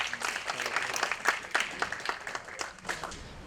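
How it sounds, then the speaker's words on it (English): Moderate applause from an audience in an auditorium at an idea pitch event, individual claps audible in an uneven, lively rhythm. "Please give them a round of applause."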